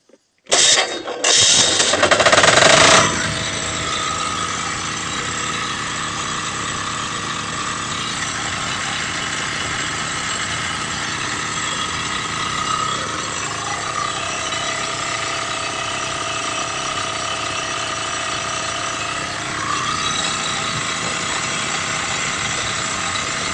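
A 6GF generator engine with a faulty starter and power loss cranks with a rattling burst, catches and then settles into a loud, steady running drone that holds for the rest of the stretch.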